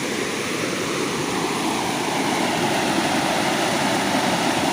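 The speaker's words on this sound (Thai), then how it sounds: "อันนี้ผมกำลังเดินไป ที่น้ำตกนะครับผม" A jungle waterfall in Chumphon province, Thailand, pours with a steady, dense rush, a continuous broad hiss of falling water close by.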